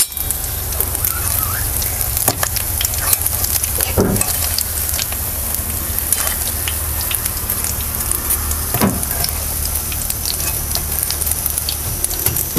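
A snack frying in hot oil sizzles loudly and steadily, with sharp pops and spatters scattered throughout and a few clinks of a utensil.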